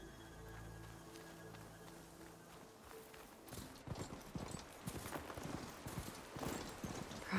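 A ridden robotic machine mount in Horizon Forbidden West breaking into a run, rapid hoof-like clip-clop footfalls building from quiet mechanical hum into a steady galloping rhythm, close and moderately loud.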